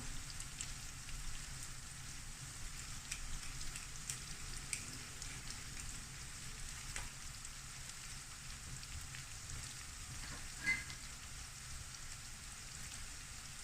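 Shrimp seasoned with white pepper and salt cook gently in a pan for Cameroonian ndolé, giving a steady, soft, rain-like sizzle that runs evenly throughout without any voices.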